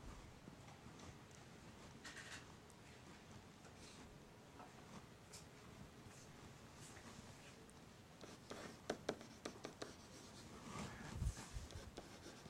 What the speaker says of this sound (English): I'll just write the formula here